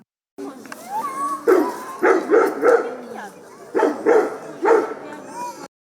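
A large shepherd dog barks repeatedly in short clusters, loud and close, with some whining between barks and a little background noise.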